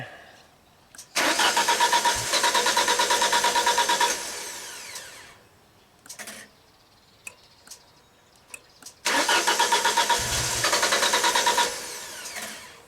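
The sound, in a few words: Genie lift engine starting and running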